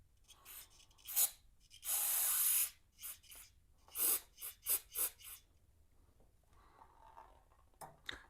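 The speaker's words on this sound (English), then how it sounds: "So I'm just going to take some spray cleaner." A spray cleaner hisses onto rusty parts of a 1987 Honda GL1200 Goldwing motorcycle: one long close burst followed by several short sharp squirts, with small handling noises in between and no talk.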